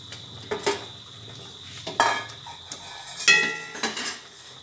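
Pabda fish dropped into simmering curry in a pot, with a few distinct metallic clinks and scrapes of utensils against the pot over a steady bubbling, fairly quiet overall.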